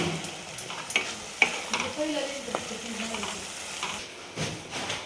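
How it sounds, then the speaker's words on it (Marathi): Curd stirred into a cabbage and pea masala in a pan, giving a soft, faint sizzle with scattered scrapes and light taps of a spoon. "आणि छान मिक्स करून घ्यायचं याला पण"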